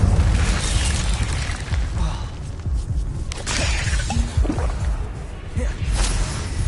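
Incendio and other combat spell effects in the video game Hogwarts Legacy, a run of loud booms, shattering crashes and popping bursts with scattered whooshes.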